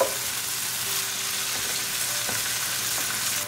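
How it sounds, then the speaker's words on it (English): Onions sauté on high gas heat in a pan, giving a steady, loud, close sizzle with faint scraping as they are stirred; no voices. "Keep stirring so it won't get burned, and we're going to make sure that it's nicely sauteed."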